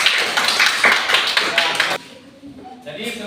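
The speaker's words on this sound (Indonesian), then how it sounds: "Tepuk tangan kepada kelompok C." A classroom of students claps for a group, a brief burst of applause lasting about two seconds, then fading into quiet murmuring voices.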